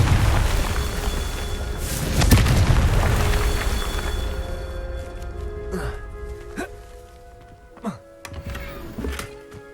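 Confringo fire spells erupt in Hogwarts Legacy as a deep, booming blast followed by several sharper magical bursts and rumbles, fading into quieter spell effects.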